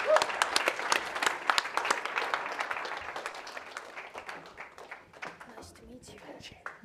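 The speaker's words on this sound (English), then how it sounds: "Round of applause." An audience at an art talk event claps, a fairly close burst of applause that thins and fades over several seconds, with voices speaking over the end.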